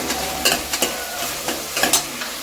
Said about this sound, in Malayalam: കറിവേപ്പിലയും കൂടി ഇട്ട് കൊടുത്തിട്ടുണ്ട് നല്ലപോലെ തന്നെ വഴറ്റിയെടുക്കണം